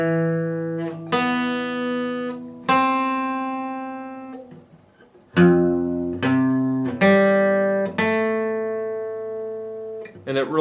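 Guitar slowly picking a song intro, single plucked notes and small clusters ringing out and decaying one after another, clear and close with pauses between phrases.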